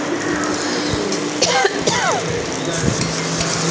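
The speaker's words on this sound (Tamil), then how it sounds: "இப்போ இது எல்லாமே நாம் தாளிச்சிட்டோம்" Spiced oil tempering for kavuni rice porridge sizzles and crackles steadily in a pan, with a few brief stirring scrapes near the middle, close and fairly loud throughout.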